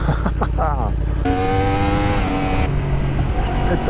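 A 2016 Yamaha R1 motorcycle engine revs on light throttle, rising and falling in pitch at close range over a constant wind-buffeted rumble, with someone talking over parts of it.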